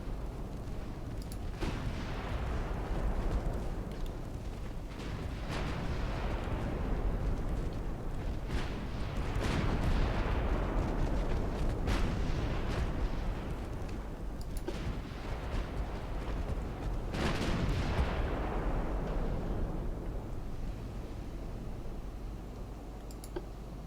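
Battleship guns of a 1900-era British fleet firing in Ultimate Admiral Dreadnoughts, heard as a steady low rumble swelling into repeated heavy booming salvos every several seconds, fairly faint and distant, with no voices.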